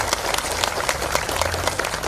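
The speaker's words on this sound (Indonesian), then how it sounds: "kita berikan tepuk tangan sebagai tanda terima kasih" An indoor audience at a Bandung discussion event claps steadily in thanks, a dense, continuous wash of many hands without a break.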